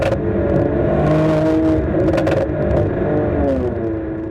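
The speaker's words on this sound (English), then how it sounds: "the exhaust sound is the biggest one. That's the most fun part about the AMG" A Mercedes-AMG C43 exhaust revving, with a steady, rich engine tone that rises and falls in pitch, close and fairly loud, with a few sharper clattery bursts mid-way and no talking.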